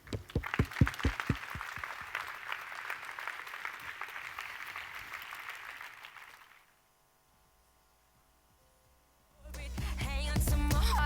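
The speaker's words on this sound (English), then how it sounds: "Thank you. Thank you. Applause." An audience applauds after a talk on free software with a loud burst of close claps, then sustained clapping that fades into near silence before music starts.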